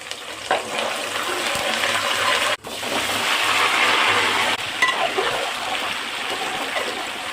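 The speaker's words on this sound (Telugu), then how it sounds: "2 టేబుల్ స్పూన్లు ఆవాలు, తాలింపులు వేసేస్తాను" Steady crackling sizzle of mustard seeds, cumin and curry leaves frying in hot oil, loud and close, continuing without a break apart from a brief dip partway through.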